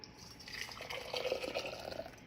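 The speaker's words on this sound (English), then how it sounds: "I will pour that into another bottle." Hot liquid is poured from a cup into a bottle, a soft continuous trickle and gurgle of filling, quiet and close, with no talking.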